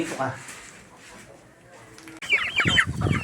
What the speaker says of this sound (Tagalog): ngayon naman ay sa mga alagang manok naman po tayo magpapakain